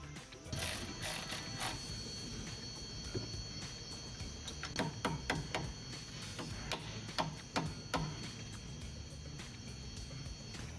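Brake line fittings on a Jeep Wrangler JK are tightened with a wrench, giving faint irregular metallic clicks and ratchet-like ticks scattered through the clip, close by and quiet, with no voices.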